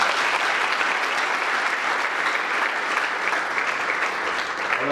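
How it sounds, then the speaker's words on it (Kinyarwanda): A large congregation at a church thanksgiving service breaks into dense, sustained applause, a loud, even wash of clapping that holds steady throughout with no voices on top. "Mumpe amashyi."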